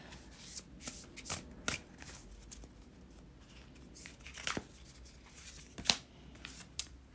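Oracle cards being shuffled by hand, with soft riffling and slapping bursts at irregular intervals, quiet and close.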